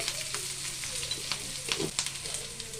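Chopped onion frying with half a spoon of turmeric in a pan, a steady close sizzle with small crackles and the light scrape of a spoon stirring.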